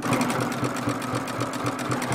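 A sewing machine runs steadily at a fast even rhythm, stitching around the edges of fabric and card on the smallest stitch length, close and continuous with no talking.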